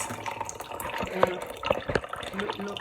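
Water poured over tea leaves in a glass for rinsing, splashing and trickling with a few drips, close, with a voice speaking over part of it.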